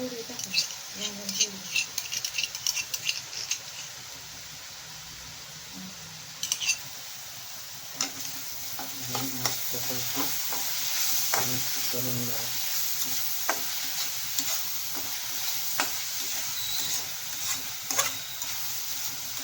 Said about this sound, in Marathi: मित्रांनो कांदा आणि आपली मिरची चांगली परतून झाली